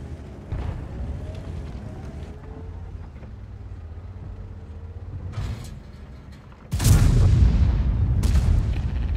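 A tank cannon fires in World of Tanks, a sudden loud booming blast late in the clip that follows quieter engine rumble and distant battle noise, its heavy roar ringing on to the end.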